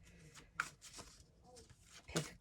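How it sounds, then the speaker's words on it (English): Oracle cards are shuffled close by at a quiet level, a few soft papery riffles and taps in short bursts against a hushed room. "I'm just going to shuffle the Oracle cards here"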